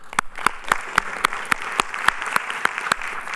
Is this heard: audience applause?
yes